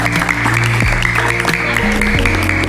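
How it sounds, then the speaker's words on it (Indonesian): An audience of pesantren students claps after a hypnosis demonstration. The applause is steady and fairly loud, with sustained tonal sounds running underneath for a few seconds. "tepuk tangan dulu dong"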